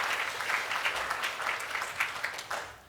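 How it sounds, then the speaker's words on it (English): Applause from an audience of about 200 at a sold-out event, a steady dense wash of many hands clapping, moderately loud and sustained throughout with no talk over it. "Give yourselves a round of applause."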